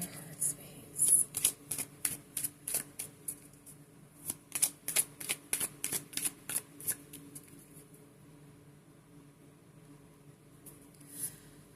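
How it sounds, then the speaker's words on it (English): A tarot card deck is shuffled by hand, a quick series of crisp riffling flicks, close and fairly quiet, fading to near silence before one last snap. "give this deck a quick shuffle"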